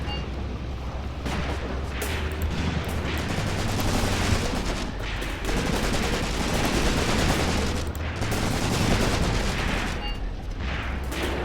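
Machine gun fire in the video game Graviteam Tactics: Mius-Front: dense, continuous bursts of rapid shots and booms, loud and sustained, with brief lulls between volleys.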